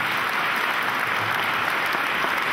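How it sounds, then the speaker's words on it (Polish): Audience applause at a film sound-editing award ceremony, a dense, steady wash of clapping that holds evenly for the whole span with no voices over it. "Duże brawa"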